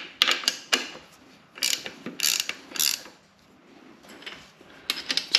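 A hand ratchet tightens bolts on a Honda K24 gearbox during a clutch and flywheel upgrade, clicking in several short, sharp bursts separated by brief pauses.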